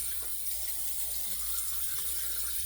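Tap water runs steadily into a sink to wet a head before shaving with a single edge razor, a continuous soft hiss with no talk.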